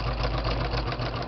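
Sewing machine stitching the edging of a fabric postcard, a steady, fairly loud whirring hum from a slow-running motor with no voices.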